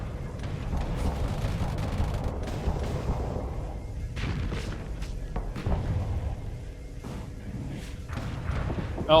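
Starsector MIRV missiles fire and burst on impact, a dense run of heavy thuds and booming blasts over a low rumble that keeps going throughout.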